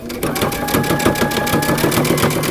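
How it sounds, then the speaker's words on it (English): A sewing machine runs steadily close up, understitching along the facing edge of a long coat, with an even rapid needle clatter that continues throughout. "we're going to stitch really close to the edge"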